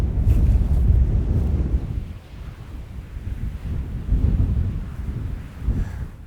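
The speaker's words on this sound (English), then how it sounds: "It's like 30-mile-an-hour winds, like pretty consistent." Strong, steady wind of about 30 mph blows across open Montana country, buffeting the microphone with heavy low rumbling gusts that dip briefly and surge again; no voices.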